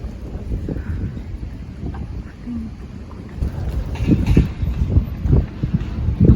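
Gusty wind buffets an umbrella outdoors near Parliament House and the courts, a continuous rough low rumble that swells louder toward the end with bursts of flapping; a voice speaks briefly.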